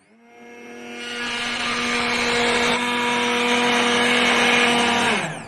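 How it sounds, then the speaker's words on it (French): A kitchen blender motor spins up while making a salad backstage on tour, ramping to a loud steady whine with a strong hum and holding for several seconds before cutting off, no talking. "Je vais essayer d'enregistrer le moment où je mets le mixeur."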